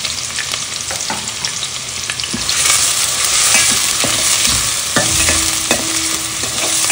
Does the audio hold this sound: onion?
yes